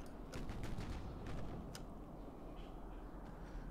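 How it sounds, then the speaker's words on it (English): Distant naval gun salvo in the warship game Ultimate Admiral: Dreadnoughts during a convoy battle off Okinawa, a quick cluster of muffled booms over a low rumbling sea-and-engine bed, fairly faint. "That salvo just hit another transport"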